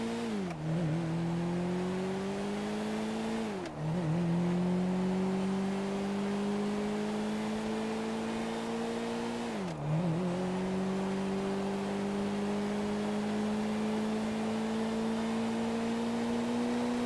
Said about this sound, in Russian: Вслушайтесь в звук его мотора.